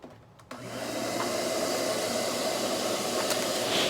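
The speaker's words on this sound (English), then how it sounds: "I'm just going to vacuum that out." A vacuum cleaner starts up after a brief quiet moment and runs at a steady, loud whine, close by, vacuuming out a broken Gibson SG guitar neck joint during repair.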